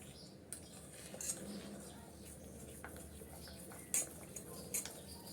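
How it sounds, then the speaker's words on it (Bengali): Custard is stirred continuously in a pan, with soft scraping and light clinks of a spoon against the metal at irregular intervals over a quiet background. "অনবরত নেড়ে চেড়ে মিক্স করে নিতে হবে না হয় তলানিতে লেগে যেতে পারে"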